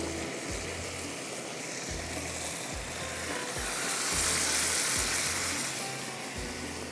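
Chicken pieces dropped into a hot pan of white qorma gravy sizzle softly with a steady hiss, faint and close, over a low rumbling background.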